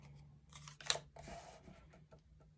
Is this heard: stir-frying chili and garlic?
no